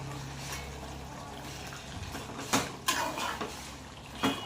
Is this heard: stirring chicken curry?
yes